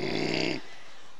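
A voice imitates a loud snore in one drawn-out, rasping inhale that cuts off sharply, leaving near silence.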